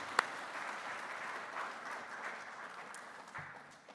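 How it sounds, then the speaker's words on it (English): Graduation audience at Mat-Su College applauding faculty, staff and administrators; a steady wash of many hands clapping, fairly distant and soft, fading slightly toward the end. "So let's give faculty, staff, and administrators a round of applause."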